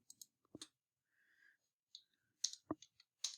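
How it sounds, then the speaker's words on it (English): Sparse keystrokes on a computer keyboard as short entries go into an Excel spreadsheet: a handful of quiet, close clicks in small irregular clusters with brief pauses, and no voices. "we're going to type each thing in, push enter after we type it."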